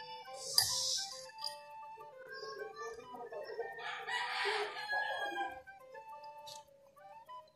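A rooster crows loudly close by, with its full call rising and falling and further clucks and calls following, on a home farm.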